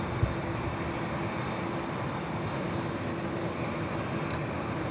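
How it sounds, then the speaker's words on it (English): A Boeing 787-10 Dreamliner jet airliner at LAX gives a steady, broad engine roar that fills the whole stretch at an even, fairly loud level, with no speech. "787-10 Dreamliner heading back to Amsterdam."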